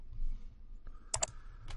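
Fingers tap a computer keyboard while text is entered in LibreOffice, a quiet room with scattered soft keystrokes building to a few sharper clicks near the end.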